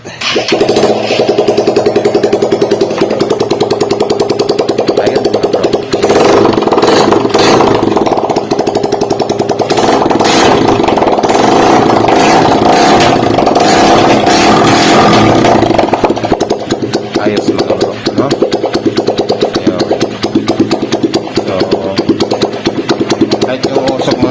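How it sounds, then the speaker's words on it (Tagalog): A loud, raw Honda XR 150 motorcycle engine under overhaul, running open without an exhaust pipe, sputtering and revving unevenly, harsh and close throughout. "papandarin natin pero wala pang tambutso para makita natin kung may usok ka o wala"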